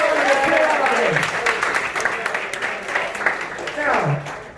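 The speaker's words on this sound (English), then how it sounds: "Give you guys a big hand of clap." Audience applause at a Marvel versus DC fan panel, dense and sustained from start to finish, with voices and cheering mixed over the clapping.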